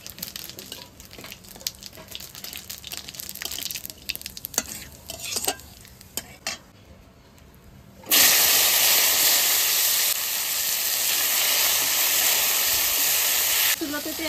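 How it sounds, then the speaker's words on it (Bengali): Cumin seeds and bay leaf sizzle loudly in hot mustard-free fish-frying oil for cooking kochu loti, a sudden steady hiss bursting in after quieter clattering, holding strong to the end. "আমি জিরা তেজপাতা দিয়ে দিচ্ছি কচুরলতি রান্না করার জন্য।"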